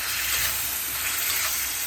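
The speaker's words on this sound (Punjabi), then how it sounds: "ਇਹਨੂੰ ਮੜਾ ਜਿਹਾ ਧੋ ਕੇ ਚ ਪਾਣੀ ਵੀ ਪਾ ਲਾਂਗੇ" Water is poured into a paneer dish in a kadai, making a steady, close rushing splash with no pause.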